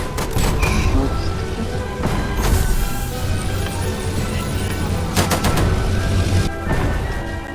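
Dense, continuous gunfire with rapid automatic bursts and heavy booms, loud and busy throughout, like a chaotic firefight in a Roblox war game.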